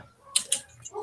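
A couple of quick, crisp keystrokes on a computer keyboard while entering a chemistry formula, with a short pause between them and faint room noise, no talking.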